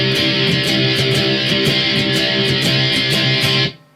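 Distorted electric guitar chugging the verse riff of a song, loud and close with a steady driving rhythm of palm-muted strums that cuts off abruptly at the end.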